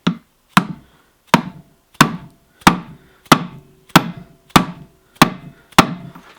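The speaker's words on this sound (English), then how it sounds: "I'm going to start with the old bearing and a rubber hammer." A rubber hammer taps an old bearing while a manual transmission is reassembled: evenly spaced blunt knocks, about ten in a row, each a hard thud with a short ringing tail, close and loud in a quiet space.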